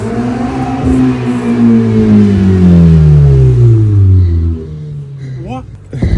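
A Ferrari engine revs up close, loud and sustained, its pitch climbing and then falling over several seconds before dropping away, with a brief sharp burst near the end.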